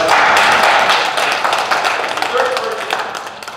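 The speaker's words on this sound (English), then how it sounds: "Let's give it a round of applause." Audience applause at a live emergency first aid training session, a dense wash of clapping that starts loud and gradually thins out over a few seconds, with a voice faintly audible underneath.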